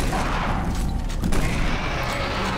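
Shotgun blasts against a Hell Knight in the video game Doom 3, with dense, loud gunfire and booming filling the whole moment under a continuous roar of game noise.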